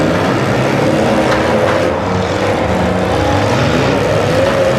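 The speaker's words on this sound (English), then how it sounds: "The 6 cylinders are off and running." Six-cylinder cars in a Muskingum County, Ohio demolition derby run together as a loud, continuous engine roar with shifting revs and a rough mechanical din, close and steady, with no talk.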